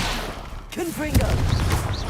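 In Hogwarts Legacy, a Confringo spell is cast with a sudden blast over busy game sounds, alongside short whooshing, pitched effects and a voice chiming in.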